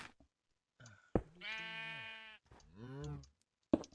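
Sheep in the video game Minecraft bleat in two long, wavering calls, close and clear against quiet gaps, with short clicks and thumps in between.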